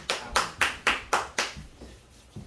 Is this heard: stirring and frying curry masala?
no